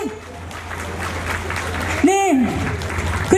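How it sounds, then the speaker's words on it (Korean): An audience at a Korean cultural event applauds the arriving city mayor with steady, moderate clapping in a large room. A voice briefly rings out over the clapping near the middle. "청주시장님께 박수 한번 부탁드리겠습니다."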